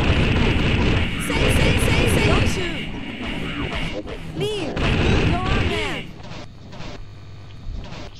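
Rapid bursts of gunfire in the game Hades II crackle over a busy, noisy soundscape with explosions and effects, while a person talks over the action.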